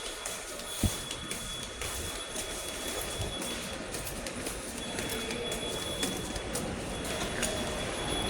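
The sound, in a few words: train at MRT station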